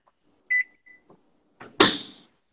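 Kitchen microwave oven in use while making a mug cake, giving a short high electronic beep, a couple of faint clicks, then a louder burst of door or button noise, close by with no talking.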